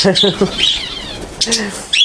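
Zebra finches chirp close by as they peck at egg food, giving out quick bright tweets in short bursts with small gaps between them.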